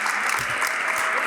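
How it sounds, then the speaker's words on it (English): A crowd gathered for a Black History Month celebration gives itself a round of applause, dense and even clapping that holds steady and fairly loud throughout, with no voices on top. "give yourselves a great round of applause"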